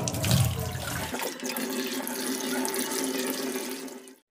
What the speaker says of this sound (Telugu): చూడండి ఇది ఇన్కమింగ్ వాటర్